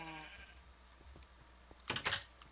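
Sheep bleats from a Minecraft-style survival game, one short bleat at the start followed by quiet clicks and a brief burst of noise, alone with no talk.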